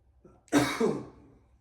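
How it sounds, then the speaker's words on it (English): A single loud, close cough from a man with a lingering cough, a harsh rasping burst in two quick pulses trailing off into silence. "I'm just getting over like a little bit of a lingering cough here."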